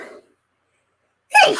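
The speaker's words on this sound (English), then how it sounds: "I gotta sneeze." A woman sneezes once, close and sudden, a loud burst after a brief sharp intake of breath and a moment of silence.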